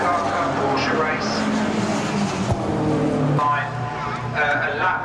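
Porsche race cars in a BRSCC championship race at Rockingham roar past trackside, a sustained engine drone with rising and falling pitch under loud commentary.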